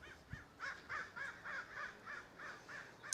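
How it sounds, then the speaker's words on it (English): A crow caws about ten times in a steady, evenly spaced series, moderately loud and close, with no voices over the calls. "Look at that crow, Connery."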